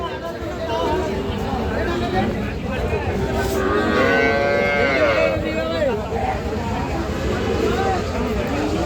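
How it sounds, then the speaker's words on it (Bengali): Calves and cattle at a busy livestock market low and moo repeatedly at close range, their calls rising over a constant babble of people talking nearby. "এই পাশে বেশ কিছু বাছুর দেখতেছি"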